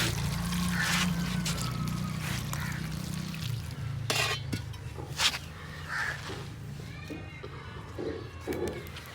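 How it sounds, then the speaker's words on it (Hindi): Water pours and splashes steadily over fresh saag greens being washed in a village kitchen, a continuous close trickle with faint background murmur. "सबसे पहले हम साग को अच्छे से धोएंगे।"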